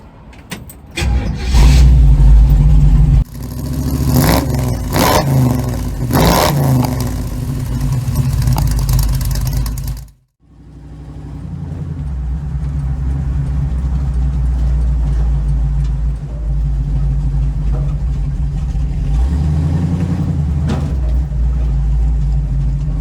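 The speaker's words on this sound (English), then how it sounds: "I may as well take out the hot rod and test out the suspension" A 1936 hot rod drives past with a loud, rough engine roar, revving hard at first, cutting out briefly, then settling into a steady rumbling cruise; no talking.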